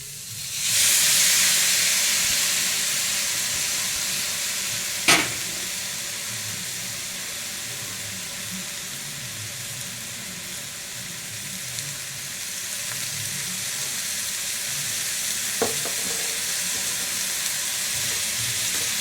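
Chopped small onions and tomatoes sauté in a pan for chicken curry, giving a loud, steady sizzling hiss that eases slightly after the first seconds. A couple of sharp utensil clicks cut through the continuous frying.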